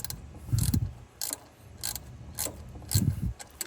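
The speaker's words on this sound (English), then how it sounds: "I've got this little tiny 8mm ratcheting wrench that worked perfectly to tighten that clamp in there." Short bursts of mechanical ratcheting from a small 8mm ratcheting wrench tightening an intake hose clamp in a tight engine bay on a 2.7L L3B, several separate clicking runs, close and fairly quiet.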